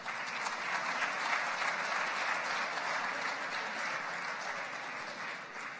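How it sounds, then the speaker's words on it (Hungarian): Sustained audience applause fills a nature photography award ceremony, a steady dense wash of clapping from a large crowd with no speech over it. "egy nagy tapsot kérek nekik."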